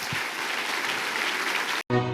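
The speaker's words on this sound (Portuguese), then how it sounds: "Aplauda forte o nome do Senhor Jesus." Church congregation at a Foursquare (IEQ) service in Piracicaba applauding loudly together, a dense, sustained wash of clapping that cuts off abruptly near the end.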